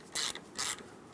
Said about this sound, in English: tighten up your terminal with whatever tool you use to disconnect it